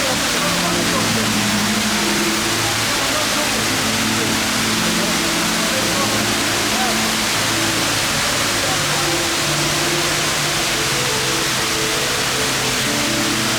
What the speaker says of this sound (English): Sculpture in the middle of the mall. With running water.